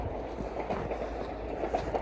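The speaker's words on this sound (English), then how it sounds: "A train going by." A train passes near a snowy park, a steady low rumble with faint rhythmic rattling that fills the short stretch at a moderate distance.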